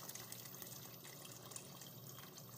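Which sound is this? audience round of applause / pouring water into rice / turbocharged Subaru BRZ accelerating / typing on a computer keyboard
pouring water into rice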